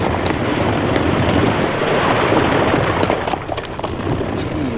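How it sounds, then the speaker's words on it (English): Explosion in a 1940s radio drama blowing the top off a rock: a loud, sustained broadband roar and rumble that fills the whole clip, with no talk over it. "An explosion. It blew the top of the rock all to smithereens."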